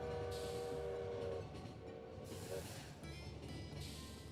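A video game train rumbles past and sounds a sustained two-note horn in two long blasts, loud and close, with wind-like roar behind.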